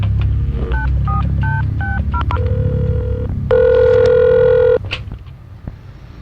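A telephone is dialed with a quick run of separate DTMF keypad tones, followed by a long, loud steady tone, after which faint clicks and low background noise remain; no one speaks.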